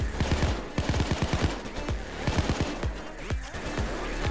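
Rapid bursts of automatic gunfire from a Payday 2 heist, sharp repeated shots in uneven clusters over a few seconds, loud and close with faint background talk.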